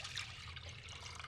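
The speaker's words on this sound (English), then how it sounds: "the next thing I'm gonna do is I'm gonna add my liquid to a saucepan." Liquid pours steadily into a saucepan for cooking coconut jasmine rice, a continuous close gurgling splash with no pauses.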